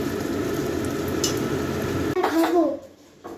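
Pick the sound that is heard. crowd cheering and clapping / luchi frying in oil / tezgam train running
luchi frying in oil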